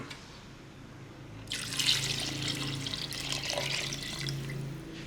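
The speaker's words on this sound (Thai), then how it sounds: "เติมน้ำ" Water pours into a pot of beef stew with blended tomato, starting abruptly as a steady, close splashing gush that runs for several seconds with no talk.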